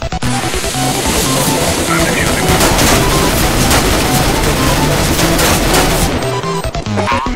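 Dense, loud automatic gunfire in Counter-Strike: Global Offensive during a bomb defuse round, rapid overlapping shots and bursts filling the whole stretch with a chaotic, continuous barrage that eases slightly at the end.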